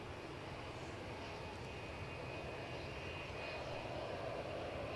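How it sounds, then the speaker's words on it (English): ATR turboprop airliner speeding down the runway on a windy day at Edinburgh Airport, a steady distant engine roar and rush that holds even and slowly builds over several seconds, with no voices. "we've got an ATR zipping down the track"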